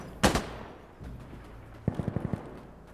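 Gunfire in the tactical shooter Insurgency Sandstorm: one loud close shot, then a faint thud, followed by a quick run of five or six sharper cracks, all against low game ambience.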